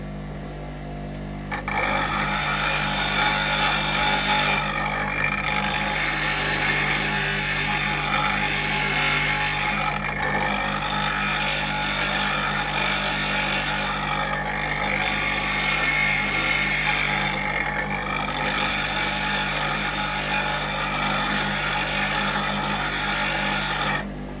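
Woodturning roughing gouge being sharpened with a handmade wooden jig, a steady abrasive grinding hiss that runs continuously and loud for the whole stretch after a brief quieter start, with no talk over it.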